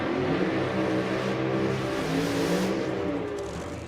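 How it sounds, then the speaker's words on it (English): A supercharged nitro funny car at a drag race roars with a loud, continuous, rumbling engine note at close range, holding steady before slowly fading toward the end. "So the supercharged car with a lot of noise on the left side"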